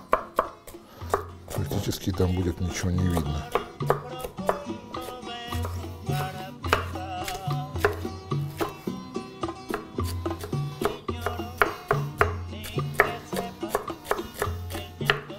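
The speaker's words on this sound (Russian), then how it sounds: "Ну что, нарезаем оставшийся перец." Rapid knife chops through bell pepper on a cutting board in quick rhythmic bursts, close and crisp, with someone talking briefly over the cutting.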